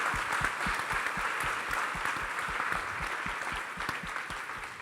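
Audience applauding at a Brazilian political panel on women and democracy, dense steady clapping with a few sharper claps standing out, moderately loud and fading slightly toward the end.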